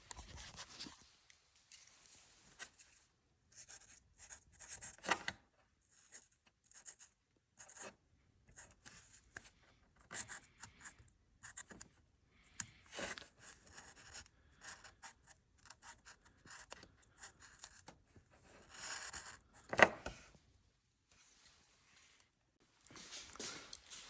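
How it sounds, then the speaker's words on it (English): Tape tearing and marker writing on labels stuck to car parts while stripping a 2007 donor car for engine removal: quiet, close, intermittent scratchy strokes and short rips come in irregular bursts with pauses between, no talk. "Grab my tape and just label what it is while I'm taking it apart."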